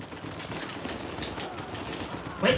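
Rapid gunfire in the video game Uncharted 4, a dense, continuous crackling rattle of shots with steady loudness and a slightly stronger burst near the end.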